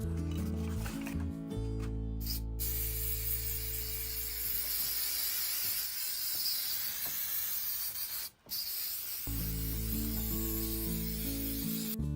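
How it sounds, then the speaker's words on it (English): A steady, loud hiss of shellac spray from an aerosol can runs almost continuously over a wooden shelf, with a brief break near the end, alongside a low tonal hum. "To protect it, we will use this shellac spray."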